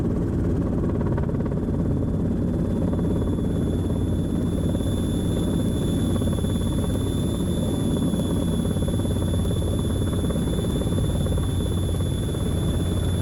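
A helicopter hovers and settles down to land, its steady loud rotor and engine roar filling the whole stretch close by, with a constant high turbine whine running above the low, pulsing thrum throughout.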